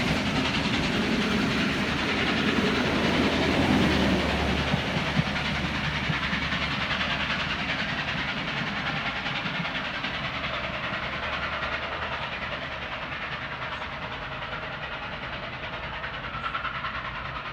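A locomotive passes through Carlton station in New South Wales, a continuous loud rumble and rattle of wheels and wagons that holds steady and fades slightly near the end.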